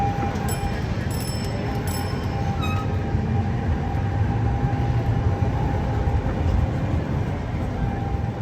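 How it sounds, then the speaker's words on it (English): A modern tram rolls past on a Lisbon street, a loud continuous rail rumble with a few high metallic squeals and clicks early on. "there's the modern looking tram coming along"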